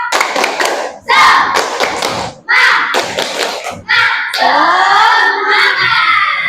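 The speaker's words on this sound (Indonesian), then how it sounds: "Coba Ibu mau tahu semangatnya. Tepuk semangat." Children in a classroom perform a rhythmic spirit clap, bursts of sharp clapping and thumps in patterned groups mixed with shouted chanting voices, loud and close.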